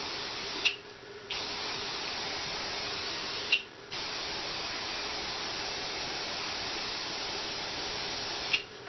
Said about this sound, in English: And then again, another spray with the hairspray.